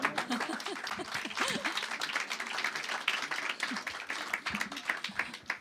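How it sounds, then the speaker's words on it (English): Scattered, fairly quiet clapping rises from the audience at a spirit forum and world wisdom council gathering, uneven claps mixed with a few voices talking nearby. "Yeah, you can clap if you want to."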